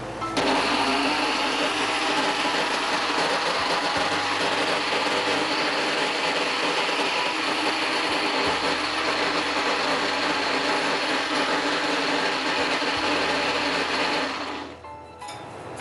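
A blender whirs chocolate banana ice cream with a steady, loud motor drone and grinding churn that holds for about fourteen seconds, then cuts off abruptly.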